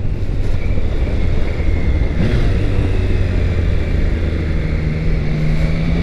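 Triumph Tiger Sport 660 motorcycle pulling hard in third gear on the road, a steady close engine drone with rushing wind that holds evenly throughout.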